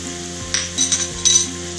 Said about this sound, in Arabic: البصل اهو الثوم بيتحمروا، في الكاري